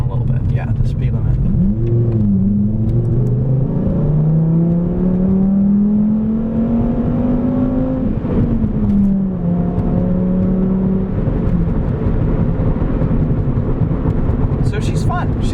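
A 2009 VW Rabbit hatchback accelerating on the road, heard from inside the cabin as a loud steady engine drone whose pitch climbs through the gears and then settles, with a passenger talking over it.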